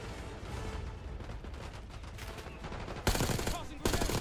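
Continuous gunfire from a Black Ops 6 campaign firefight, a dense rattle of shots and bursts with a sharper, louder volley near the end.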